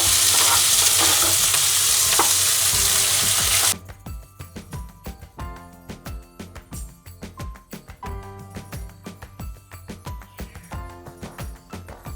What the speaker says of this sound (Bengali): আলু আর পেঁয়াজটা ভালো মতন ভাজা হয়ে গেছে।